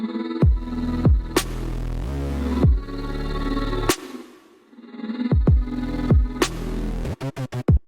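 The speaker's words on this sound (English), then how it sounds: "And here's reverse stutters." A vocal hit with a reverse stutter effect: swelling reversed fragments that cut off abruptly, repeating in a choppy rhythm and ending in a rapid stutter burst, loud with no talking.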